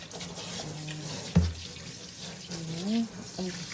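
Tap water runs steadily into a sink while a reborn doll is washed, a continuous close splashing stream with a brief knock partway through and faint voice-like tones underneath.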